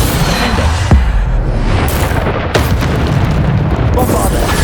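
Bombarda spell blasts in the video game Hogwarts Legacy: loud, booming explosions with two sharp hits standing out from a dense, continuous roar of combat noise, with a voice faintly present underneath.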